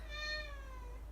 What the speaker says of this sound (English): Cat is meowing in the background.